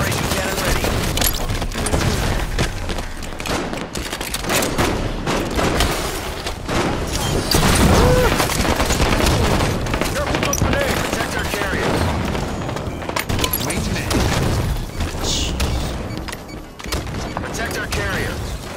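Shotgun blasts and other gunfire in Halo 5 Big Team Battle multiplayer, a dense, loud stretch of repeated shots and booms that runs continuously through the whole span alongside game noise, with a player talking over it.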